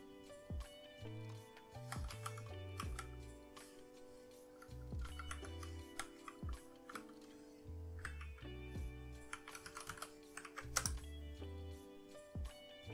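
Rapid keystrokes on a computer keyboard as an IP address is entered during a headless Raspberry Pi Pi-hole setup, close and crisp, in uneven bursts over a low steady background tone.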